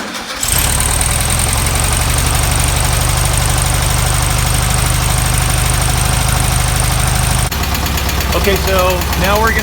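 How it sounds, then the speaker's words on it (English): A 1971 VW Super Beetle engine, fitted with an alternator conversion, cranks and catches, then runs at a steady loud idle with a high whine above the rumble; a voice speaks briefly near the end. "I'm going to go ahead and put the keys in and see if this actually runs."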